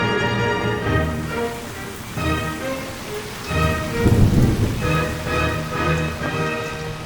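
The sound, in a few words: rain falling in a garden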